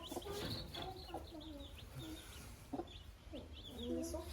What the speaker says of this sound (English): So many chicks.